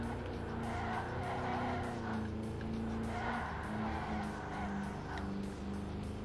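Tires squeal continuously as a car slides through a corner in the racing game Ford Racing 3, the screech rising and falling over a steady, droning engine note with no pauses.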